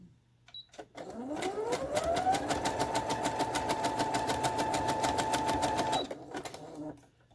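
A sewing machine stitches a piece of silk fabric in one steady run of about five seconds, with a fast, even motor whir that ramps up at the start and stops sharply. Nearby and clear, with no talking.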